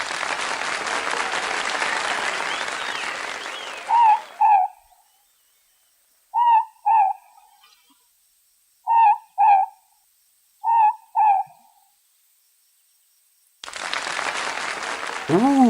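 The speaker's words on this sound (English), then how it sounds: "Puke is a night owl as a rule, but he is about to take the spotlight to prove he is a New Zealand bird with talent." A New Zealand owl gives four clear two-note hoots, evenly spaced and close, in a quiet pause between bursts of loud applause from a crowd at the start and end.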